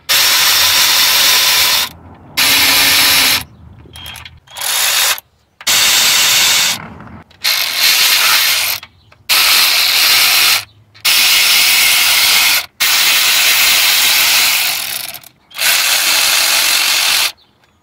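A power ratchet spins out 10 mm bolts from the timing chain cover of a Ford F-series truck engine: loud, close whirring bursts of one to two seconds, about nine of them, separated by short silences.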